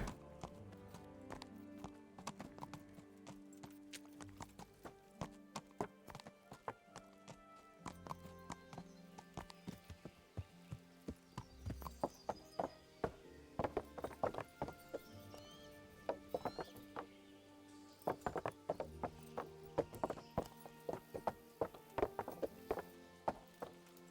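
Rhythmic clip-clop of video game horse hooves trotting steadily over a ground surface, close and clear, with an occasional whinny over faint background music.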